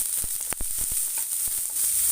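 Onions hit hot oil with chana dal in a pan, a close sizzling hiss punctuated by quick spatula taps and crackles over a couple of seconds.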